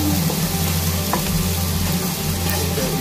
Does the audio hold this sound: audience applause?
no